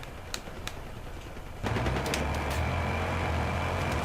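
Machine gun fire in the video game Battlefield Hardline: a few sharp shots early, then a dense, loud rattle of automatic fire over a low engine-like rumble, with no speech.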